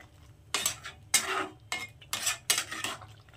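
A spoon scrapes and clinks against a pan as chicken ghugni ingredients are stirred together, in four or five quick bursts of close scraping with brief pauses between.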